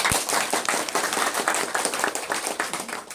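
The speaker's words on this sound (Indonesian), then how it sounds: "Tepuk tangan." Applause from a crowd at a political gathering of party witnesses in Buleleng, a steady dense patter of many hands clapping close by for a few seconds.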